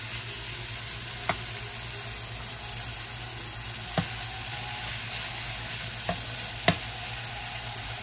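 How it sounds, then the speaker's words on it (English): Rice being stir-fried for shrimp fried rice, a dense steady sizzle with a few sharp clicks of a utensil against the pan, no speech. "Now I'm going to start putting my rice in."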